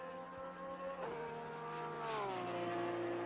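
Race car with a Porsche 3.8 litre turbocharged flat-six boxer engine, heard on track at the Hungaroring, drops through the gears with a sharp downshift and loud, continuous engine howl, pitch stepping down as it brakes.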